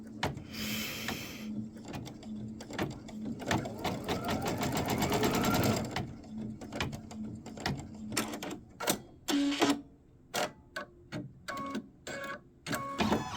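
Sewing machine stitching quilt fabric for a cake block, starting in a rapid burst of close needle clatter, then breaking into short stop-start runs of stitching with pauses between.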